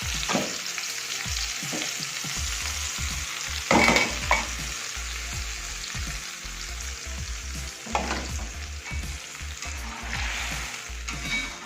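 Ground spice paste fries in hot oil in a Teflon pan, sizzling steadily up close while a utensil stirs and scrapes it at intervals.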